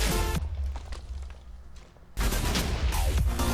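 Dubstep gun firing in a video game, a dense burst of rapid electronic shots that drops away briefly, then roars back in at full loudness with heavy low-end thumps.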